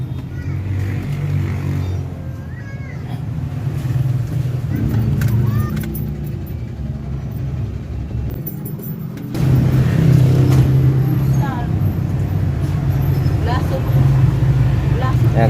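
A car engine on a repair bench is cranked with a direct start while its starter is being tested for a fault, giving a loud, steady rumbling drone that rises and becomes stronger partway through, with some metallic jingling and a voice speaking over it.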